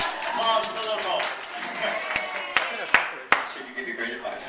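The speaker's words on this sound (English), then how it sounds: "Applause for the local." Scattered applause from a live audience at a piano show at FAO Schwarz, a few sharp close claps standing out over crowd chatter and voices.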